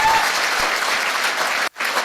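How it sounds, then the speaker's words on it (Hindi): An audience at an RCM business meeting claps loudly and continuously, a dense burst of applause that cuts off abruptly near the end before a little clapping starts again. "ताली जोरदार बजाइए"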